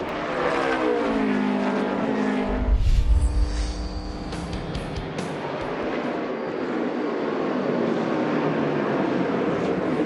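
Race cars at Sonoma Raceway roar past close and loud, one engine note sweeping down in pitch as it passes, followed by a sustained roar of the field speeding by.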